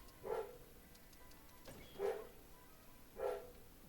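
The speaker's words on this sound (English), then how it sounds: "Tell that dog to shut up." A dog barks three times, spaced evenly apart and well separated. The barks are faint and distant.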